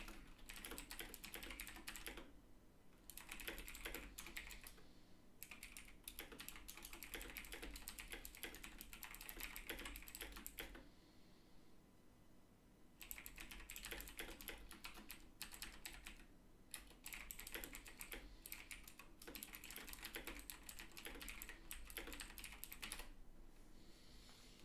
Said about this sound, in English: Bretonia, you have the loudest fucking keyboard in the world, don't you?